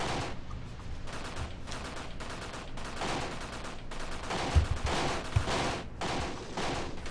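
RPK and AK rifle fire in the video game Graviteam Tactics during a Soviet-Afghan battle: dense, continuous bursts of automatic fire, loud and sustained, with a few sharper, heavier reports near the middle.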